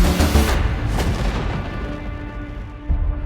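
Lancia Delta S4 Stradale twin-charged engine cracking and popping as it spits flames, a few sharp loud bangs near the start, then a rough rumbling exhaust continuing close by.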